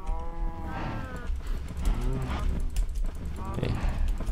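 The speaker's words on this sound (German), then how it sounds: "Füttern die Kühe wieder." Several Minecraft cows moo in overlapping low calls at close range, while feeding with wheat goes on amid a large herd, with a few soft thuds in the background.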